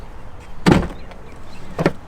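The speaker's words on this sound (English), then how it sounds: "Yeah, even when you open the door, you could tell this is a lot heavier" The heavy door of a Jeep Wrangler Rubicon Xtreme Recon gives two solid mechanical thuds about a second apart, close and moderately loud over quiet outdoor background.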